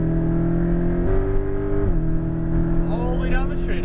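A sports car, a Porsche GT2 RS or Lamborghini Aventador SVJ, accelerates out of a corner on a Las Vegas track, its engine a loud sustained drone stepping up in pitch as it shifts, with a voice speaking over it.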